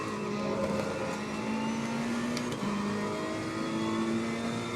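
A Ferrari 488 GT3 race car in Assetto Corsa Competizione at Misano drives at speed, its engine a loud, sustained tonal drone that shifts pitch with revs, with a brief dip near the middle.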